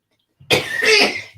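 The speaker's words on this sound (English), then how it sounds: "I bet you somebody's making you cough." A single close, loud cough, harsh and throaty, after a moment of near silence.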